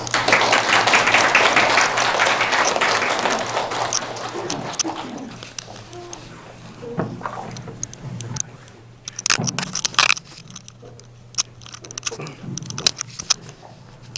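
An audience at an elementary-school parents' information session in Cheonan applauds to welcome a lecturer, loud dense clapping for a few seconds that thins into scattered claps, shuffling and a few voices.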